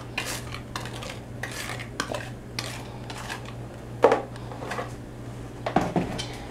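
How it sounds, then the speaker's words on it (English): A utensil stirs wet carrot pineapple cake batter into dry ingredients in a bowl, giving repeated soft scraping strokes and a few sharper clinks against the bowl, close and rhythmic over a low steady hum. "And just start stirring everything together"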